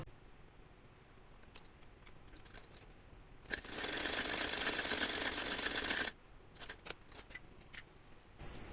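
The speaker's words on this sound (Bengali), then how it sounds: "এখন অপর কাঁধটা আমি সেলাই করে নিচ্ছি।" A sewing machine runs in one steady burst of about two and a half seconds, stitching the shoulder seam of a frock for a 12-year-old girl, with quiet handling taps before it and after.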